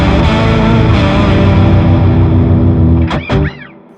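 A loud, sustained electric guitar chord drones with heavy distortion and washy reverb, then a couple of sharp scraping noises as it cuts off and decays.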